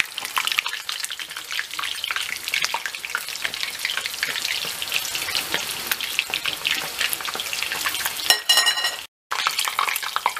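Batter dough for Turkish fried bread, plain and cheese-filled, sizzles and crackles steadily in hot oil, a dense spattering hiss that runs close and loud throughout, with a brief sharper burst near the end.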